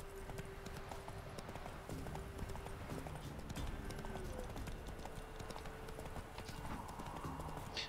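A horse's hooves clip-clop in a steady trotting rhythm throughout in The Witcher 3: Wild Hunt, with a faint snort or whinny near the end, over a constant low background hum.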